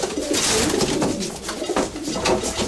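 Pigeons kept by a breeder coo close by in a soft, repeated throaty burble, several rolling calls following one another over a low background hum.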